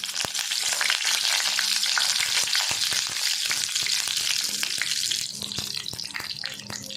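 Curry leaves and spices crackle and sizzle steadily in hot oil for a mutton curry, a close, busy frying hiss with scattered sharp pops that eases off slightly toward the end.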